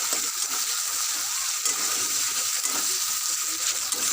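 Ginger, garlic and onion fry in a pan for a few seconds, giving a steady, close hiss of bubbling oil with scattered crackles and no talking.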